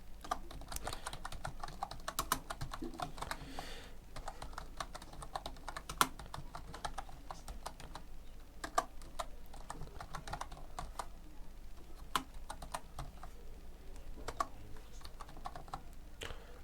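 A command being typed on a computer keyboard during a Laravel project install, steady quiet key clicks with occasional sharper taps, close up, continuing alone without speech.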